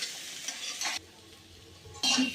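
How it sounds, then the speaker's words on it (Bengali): Food frying and being stirred in a pan before water is added, with loud bursts of sizzling and scraping at the start and again near the end around a quieter, softer stretch. "এবার একটু ভাজা ভাজা হবে, তারপরে জল দেবো, একটু নাড়িয়ে নিই।"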